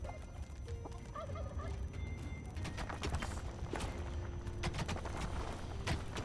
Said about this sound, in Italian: I tacchini ti andavano bene che erano così pochi